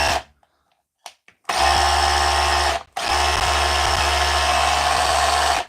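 A DeWalt SDS drill under repair starts after a short pause and runs loudly and steadily, cuts out briefly, then carries on with a constant motor whine.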